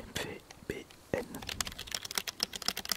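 Quick clicks on an AZERTY computer keyboard tap away in uneven bursts, close and fairly quiet, outdoors in a forest, with soft whispered French speech mixed in at the start.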